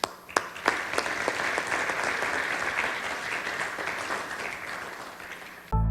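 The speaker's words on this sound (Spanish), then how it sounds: "lo recibimos con un aplauso" Audience applause for a speaker at the Perumín mining event in Arequipa, a dense, steady round of clapping that runs loud for about six seconds before cutting off abruptly.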